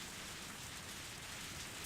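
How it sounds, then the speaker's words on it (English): Soft, steady patter of rain falling on a rooftop and splashing into puddles, from a video game, heard as a faint, even hiss with no talking. "I heard the sound of rain pattering on the rooftop and the raindrops jumping into puddles"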